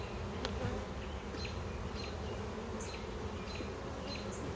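Honey bees buzzing around an open hive, a dense steady hum with individual bees whizzing past close by, faint and continuous with no talking.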